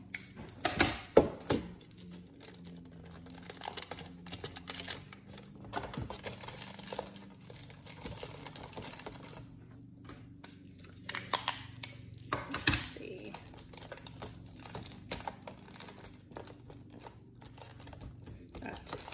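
Adhesive tape crinkles and rips in irregular bursts as it is pulled and wrapped around a homemade solar viewer box, close and fairly quiet.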